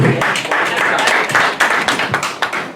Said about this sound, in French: Candidat numéro 6, sous vos applaudissements mesdames et messieurs